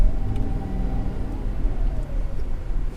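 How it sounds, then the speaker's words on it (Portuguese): A 2020 Volkswagen Gol 1.0 pulls out of a turn onto a street. Its engine and tyres make a steady, close, low rumble that holds for the whole stretch with no voices over it. "o carro já saiu totalmente alinhado aqui para a rua"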